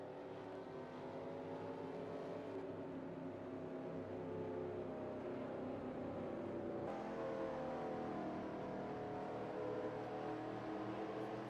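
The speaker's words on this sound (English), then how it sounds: "A couple of the cars involved in that head down pit road." Race cars rolling down pit road under caution: a steady, dense engine drone with layered rumbling tones, continuous and moderately loud, with no voices.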